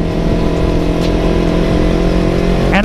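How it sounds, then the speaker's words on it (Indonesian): A Kawasaki Ninja 250 FI motorcycle with an Akrapovic exhaust runs at a steady, loud engine drone, close and continuous with a slight rise near the end, no talk. "Akrapovic ini knalpotnya adem"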